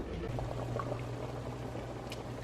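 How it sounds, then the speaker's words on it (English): Corn cobs boil uncovered in a pot of water, giving a steady low bubbling rumble with occasional soft pops and splashes, close and fairly quiet. "Okay, so I've got these cobs boiling"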